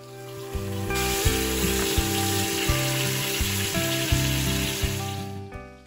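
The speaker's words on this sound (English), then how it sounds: "Sear all the sides of the short ribs about 2 to 3 minutes per side." Beef short ribs sear in an Instant Pot with a loud, steady sizzle broken by occasional pops and spatters, while a low tonal hum runs underneath the whole time.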